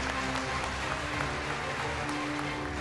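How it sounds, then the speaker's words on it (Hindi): An audience at a televised Independence Day special show applauds with dense, steady clapping that continues throughout, moderately loud with no break. "एक बार जोरदार तालियां हो जाएं आपकी"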